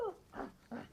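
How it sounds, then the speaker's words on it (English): A dog barks at another dog, giving two or three short, close, rough barks in quick succession. "Sam is barking at Scruffy because he's rocking his favourite tree."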